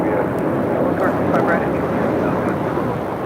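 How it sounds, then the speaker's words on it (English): A Spirit Airlines Airbus A320neo takes off at LAX, its engines giving a steady, loud roar that runs under close speech throughout. "This is Spirit Airlines 2454 taking off to Austin on an A320 Neo."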